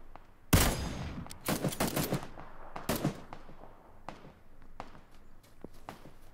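Gunfire in the battle royale video game PUBG: a loud burst of shots, then several clusters of quicker shots and scattered fainter reports, moderately distant within game ambience.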